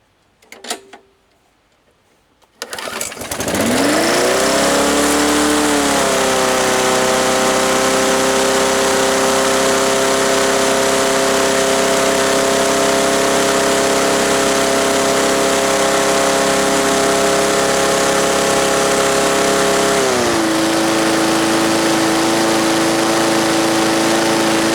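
A Yard Machines lawn mower with a 158cc Briggs & Stratton engine starts after a few pulls, then runs loud and steady close by, its pitch rising and settling before dipping slightly near the end, with no talking.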